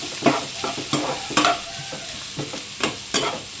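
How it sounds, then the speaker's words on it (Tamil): Half a kilo of large onions sautéing in a pan for tomato thokku, with a continuous close sizzle broken by about eight sharp, rhythmic scraping stirs of the spoon. "ஒரு அரை கிலோ எடுத்திருக்கேன் எடுத்து நல்லா வதக்கி விட்டுக்கணும்"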